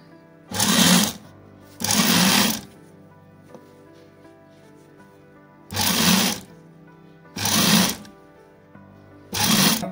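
A sewing machine stitches a langot in five separate bursts, each a loud, rapid mechanical whir of about a second, broken by short pauses of near quiet.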